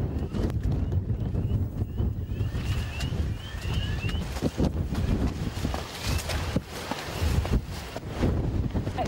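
Strong wind gusts buffet the microphone at a volcano trail race in Guadeloupe, a rough, continuous roar with fluctuating bursts and faint clatter.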